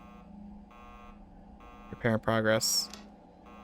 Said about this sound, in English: You're still beep booping because the data connectors got smashed